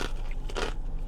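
Crisp bites into wonton-chip poke nachos topped with soft raw fish, two or three loud close crunches and crackles in quick succession, with no talking.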